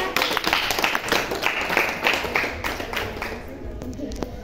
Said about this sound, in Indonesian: Tepuk tangan untuk tim kontra.